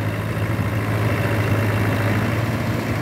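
A 30-year-old tractor hauling about 90 quintals of soil runs with a steady, low, throbbing engine drone, loud and close with no pauses.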